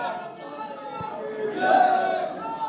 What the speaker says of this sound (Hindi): क्योंकि भीड़ ज्यादा है, इस भीड़ में